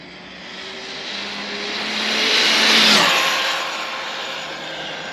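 A Hobao VSE RC car on a single 4S battery pack makes a high-speed pass of about 125 mph, its whining motor rising to a loud peak and then fading as it passes.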